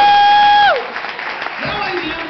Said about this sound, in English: give a hand to our friends in the Scotsman